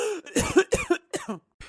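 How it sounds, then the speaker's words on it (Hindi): An older woman coughs in a cartoon comedy scene, several harsh, wet coughs in quick bursts with short pauses between, close and clear, no other voices. "एक तो हम अपने खांसी से नहीं बहुत परेशान।"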